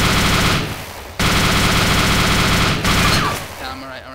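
Extremely rapid machine-gun fire at 2,000 rounds per minute in the DayZ Epoch video game, a dense continuous roar in two long bursts separated by a brief gap, loud and close.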